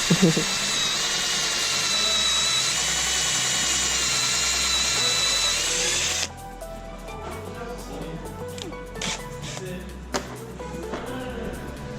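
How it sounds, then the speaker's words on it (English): A power drill drilling metal whines steadily for several seconds, then cuts out, leaving lighter clinks and mechanical clatter with faint voices nearby. "You reckon you're drilling it straight, mate, or what?"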